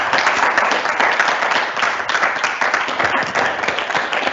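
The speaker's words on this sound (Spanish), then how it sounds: "yo quiero que el aplauso sea solo para él." Audience applause at a university event in Spain, a dense, steady wash of clapping filling the whole moment at close range without pause, a crowd of hands rather than any single clapper standing out.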